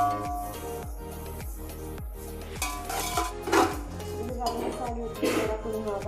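Chicken biryani ingredients with turmeric and salt being sautéd in a pan, with repeated clinks and scrapes of a utensil against metal in a steady rhythm, some brief sizzling bursts, and a voice talking quietly underneath.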